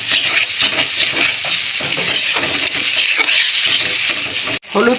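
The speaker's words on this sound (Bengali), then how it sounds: "এবার ভালো করে একটু নেড়ে নেব।" Ginger powder and spices fry in oil for a fish curry, a loud, dense sizzle with rhythmic scraping as they are stirred, ending in a brief clatter, close up with no talk.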